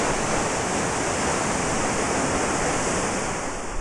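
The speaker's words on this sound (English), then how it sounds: "It drops 100 feet, the longest fall of water in England, and it takes its name from the old northern word for a waterfall" Water crashes steadily over a 100-foot limestone cliff in England's Dales, swollen after heavy rain, a loud, unbroken broadband roar filling the whole clip with no voices.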